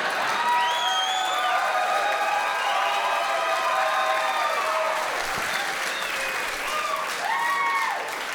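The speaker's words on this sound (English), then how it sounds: "Thanks for applauding" An audience at a stand-up comedy show applauds steadily, with sustained clapping and some cheers and whoops filling the whole stretch.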